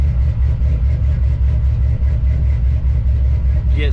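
A car engine idles through a loud, raspy aftermarket exhaust, up close. The rumble is steady and low with a pulsing rhythm, and it goes on alone for the whole stretch.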